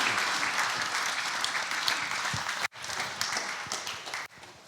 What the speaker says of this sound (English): Another warm round of applause for our parents.